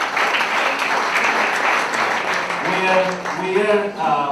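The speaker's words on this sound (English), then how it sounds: "Please welcome her with a round of applause." An audience at a university orientation ceremony applauds in a dense, loud wash of clapping. A voice begins speaking over it in the last second or so.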